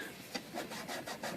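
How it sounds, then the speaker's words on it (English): A dry rag, used after a touch of denatured alcohol, rubs glue residue off a vintage typewriter. Quick, quiet, scratchy back-and-forth strokes repeat in a steady rhythm, close up. "a little tiny bit of denatured on that, and then dry rag it."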